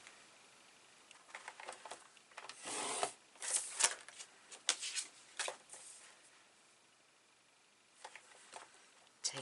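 Paper scored on a scoring board for a mini 8 x 10 album, faint scratchy strokes in short bursts with pauses between them, close and quiet.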